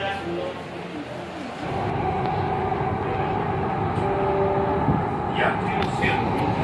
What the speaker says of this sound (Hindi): मैं कॉलेज से सीधा यहाँ ही मेट्रो में आ गया पिंक लाइन से लाजपत साइड